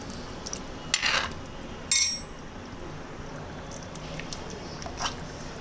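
A spoon stirs Kerala Syrian Christian style chicken stew with thin coconut milk in a pot, giving a quiet liquid slosh with two brief scraping clinks of the utensil against the pot near the start.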